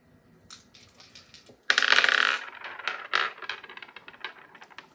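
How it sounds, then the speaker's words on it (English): Dice rattle and clatter across a surface for a tarot-style reading, a sharp burst of tumbling clicks followed by a few scattered knocks as they settle, close and fairly quiet. "I'm going to do another dice roll on that one."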